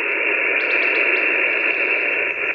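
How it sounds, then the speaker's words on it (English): Ham radio receiver output with the preamp switched on, tuned while a Buddistick or Hamstick antenna with an aluminum screen ground plane is tested: a steady, loud band of hiss and static running throughout, with faint chirpy warbles on top. "so I turn on the preamp, you can hear him a little better"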